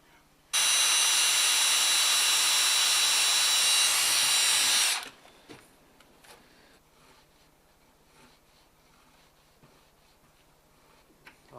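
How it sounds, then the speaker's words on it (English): A power drill runs loudly for about four seconds, boring out peg holes in a hundred-year-old Norwegian wooden window frame, then stops, leaving quiet workshop handling sounds. "I might drill these out slightly larger."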